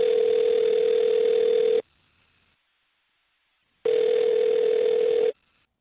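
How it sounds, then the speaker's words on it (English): A telephone tone sounds while a number is dialed: two steady, loud bursts of about two seconds each, separated by silence, heard alone on the line. "All right, I'm going to dial her number right now."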